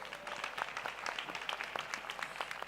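Audience applause at an alumni awards ceremony: dense, steady clapping from a crowd, moderately faint and sustained across the whole moment with no voices over it.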